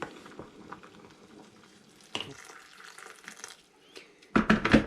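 Elderflowers are dunked and stirred in boiling water, giving scattered splashes and sloshing bursts with a louder, bubbly churning splash near the end.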